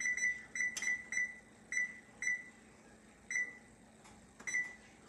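A kitchen appliance emits a string of short electronic beeps as timer buttons are pressed, irregular single chirps of moderate loudness in a quiet room.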